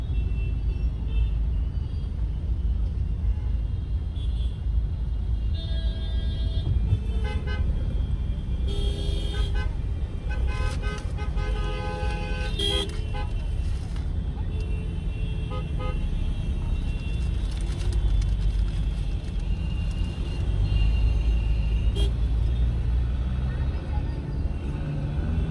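Busy main road traffic in Delhi, with a steady roar of cars and other vehicles and scattered horn toots, heard from inside a Scorpio N SUV while someone talks throughout.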